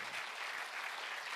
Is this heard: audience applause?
yes